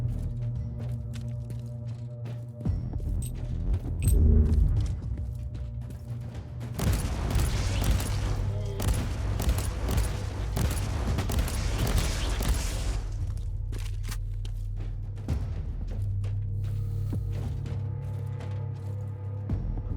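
Rapid weapon fire in Warhammer 40,000: Inquisitor – Martyr, a dense stretch of quick mechanical shots and impacts over a low droning background, with a louder boom early on and no talking.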